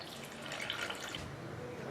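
Water poured into a pan of potato and green pea curry makes a steady close splashing and trickling, a continuous pour that grows a little louder midway before settling.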